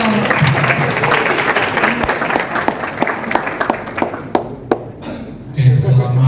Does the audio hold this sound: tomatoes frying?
no